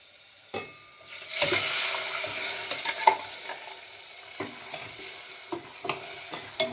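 Ground masala is stirred into a frying green gram gravy. A soft sizzle swells after a quiet start, while sharp spoon scrapes and clinks recur close by without speech.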